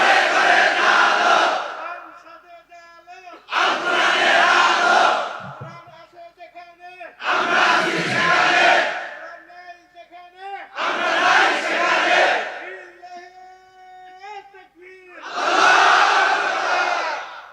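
Large crowd at an Islamic sermon gathering roars takbir in unison five times, each loud sustained shout answering a single caller's cry, with short pauses and the caller's voice between bursts.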